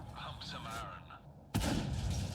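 Tank cannon fire in World of Tanks from a Batchat 25t, one heavy blast arriving partway through after a stretch of talking and then rumbling on loudly.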